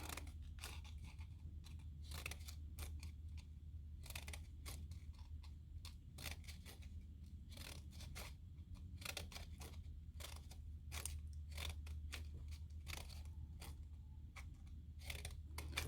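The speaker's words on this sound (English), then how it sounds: "this paper is so hard to cut through with this glitter" Scissors snipping through stiff glitter paper while shaping paper flowers, a steady run of short crisp cuts and crunches over a constant low hum, close and fairly quiet, with no talking.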